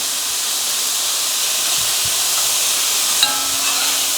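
Meat browning in a pan for chili gives off a steady, broad sizzle and hiss, loud and close, with a faint clink near the end.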